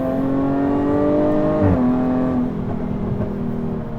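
A 2020 Jaguar F-Type P380 sports car engine revs loudly and steadily, pitch dipping briefly mid-way before settling into a sustained growling drone.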